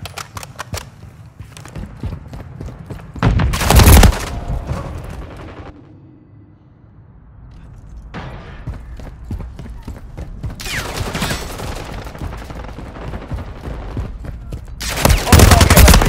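Heavy gunfire in a Call of Duty video game, including a 50-caliber weapon, comes in loud sustained bursts at the start, middle and end, with quieter battle noise and voices between them.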